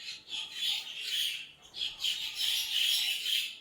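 Birds in Belagavi squawk and chirp continuously in a dense, bright chorus, with several harsh calls overlapping and swelling and dipping for a few seconds, no talk.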